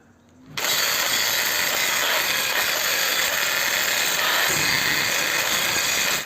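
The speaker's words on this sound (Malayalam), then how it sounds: "ഇപ്പോൾ ഗ്രൈൻഡിങ് വീലിട്ട് ഗ്രൈൻഡ് ചെയ്ത് കംപ്ലീറ്റ് ആയിട്ടുണ്ട്." Grinding wheel working scrap steel while shaping a steel soap dish, a loud, steady high-pitched grinding whine that starts abruptly after a short quiet moment and holds constant.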